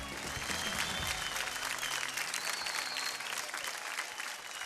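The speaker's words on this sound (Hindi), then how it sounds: "तो एक बार जोरदार तालियां इन सबके लिए" A studio audience at a televised dance competition claps loudly for the contestants, a thick, continuous wave of applause that stays steady throughout and eases slightly at the end.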